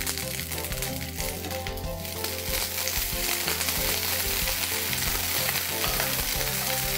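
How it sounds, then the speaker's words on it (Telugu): Green chillies and curry leaves fry in hot oil for a Gobi 65 cauliflower dish, giving a steady, close sizzle with crackling bursts that continues throughout without speech. "ఇప్పుడు నూనె వేడెక్కిపోయింది, ఇందులో 4-5 పచ్చిమిరపకాయలు నిలువుగా కట్ చేసుకుని వేసుకుందాం. ఇప్పుడు కరివేపాకు వేసుకోండి."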